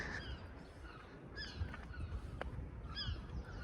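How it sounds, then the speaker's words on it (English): Herring gulls cry out in short, repeated calls at a distance over a steady outdoor background hum. "Herring gulls are quite noisy."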